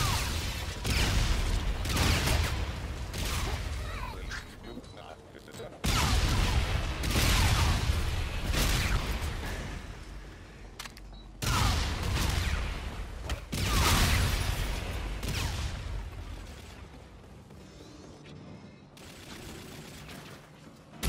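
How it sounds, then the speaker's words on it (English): Grenade blasts boom repeatedly in Call of Duty Infinite Warfare Zombies in Spaceland, heavy loud bursts arriving in clusters with brief gaps between them, mixed with crackling game effects. "Infinite grenades! Let the bombs fly."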